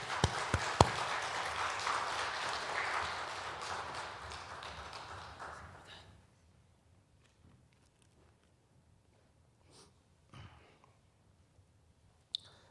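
A church congregation at a Korean worship service claps in applause, a dense patter that fades out after about six seconds. A mostly quiet stretch follows, broken by a few scattered taps and clicks.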